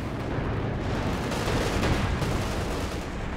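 Gunfire in the Company of Heroes 2 video game during a 4v4 urban battle: dense, continuous crackling shots and rumbling fire sustained throughout, loud and alone with no talk.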